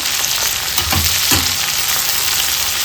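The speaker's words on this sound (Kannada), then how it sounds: "ಒಂದು ಟೊಮೆಟೊನ ಹಾಕೊಳ್ತಾ ಇದ್ದೀನಿ ಒಂದೆರಡು ನಿಮಿಷ ಫ್ರೈ ಮಾಡ್ಕೊಳ್ಳೋಣ" Tomato frying in hot oil for an egg curry gives a loud, steady sizzle and crackle, with a couple of soft stirring scrapes and no talking.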